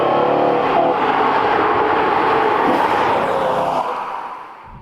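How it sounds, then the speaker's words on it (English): A BMW M3 with a V8 engine, loud and close, its engine note climbing under acceleration before fading out toward the end. "this being the only M3 to have ever received a V8 engine, it absolutely loves the revs"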